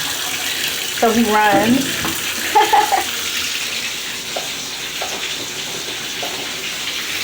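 Water runs steadily from a tap to fill a bath, a continuous close gushing hiss, while someone briefly speaks over it.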